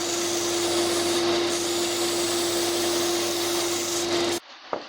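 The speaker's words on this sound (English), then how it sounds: "Now I just need to sand it to make it all smooth" A power sander smoothing a homemade wooden trout glide bait, a loud steady whine with a constant hum that runs nearly five seconds, then cuts off abruptly.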